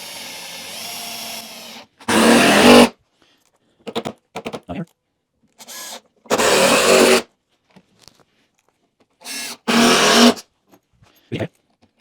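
A power drill drives screws into a rolling workbench in short, loud whirring bursts, spaced apart by quiet pauses, with faint clicks and handling sounds in between.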